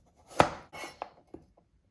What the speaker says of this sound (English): And if I had broccoli stems, what I would try to do is then cut them uniformly.